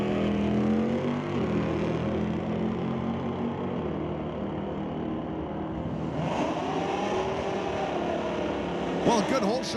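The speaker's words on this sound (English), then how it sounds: "a good hole shot by both drivers, Tony and Ron there" Street legal drag race cars launch off the line at Mission Raceway Park, engines roaring loudly and then rising in pitch as they accelerate away, with a commentator talking over the noise.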